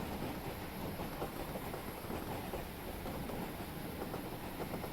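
A train running downhill in Train Simulator 2020, a faint continuous rumble with soft rhythmic clatter throughout, with no voices.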